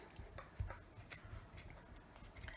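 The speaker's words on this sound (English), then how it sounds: "first cut to the left and cut just below the buffers" Sharp scissors snip through sock fabric in a few quiet, separate cuts, soft crunching blades close to the ear against a faint background.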